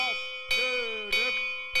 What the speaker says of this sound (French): c'est juste un fou qui sonne le clocher du village sans arrêt